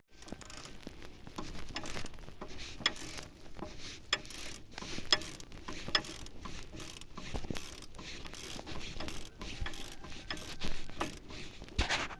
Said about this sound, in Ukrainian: Туди всередину вставляється шестигранничок і зажму гайку.